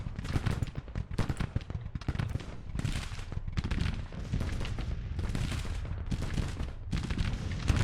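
Musket volleys in the Grand Tactician Civil War strategy game, a dense rolling crackle of many rifle shots with heavy low booms, continuous and layered as the lines fire.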